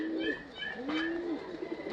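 Golden pigeons cooing close by, a few soft drawn-out coos with brief chirpy notes between, fairly quiet and alone.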